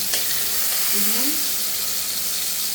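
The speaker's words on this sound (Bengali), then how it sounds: "দেখুন অল্প অল্প ফ্রাই করলাম" Frying in a pan with mustard oil for a Bengali prawn curry with gathi kochu, a steady, bright hiss that holds at an even level throughout, with a faint brief tonal sound near the middle.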